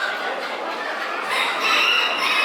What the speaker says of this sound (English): This is a nice rooster.